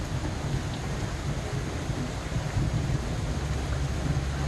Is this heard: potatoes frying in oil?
no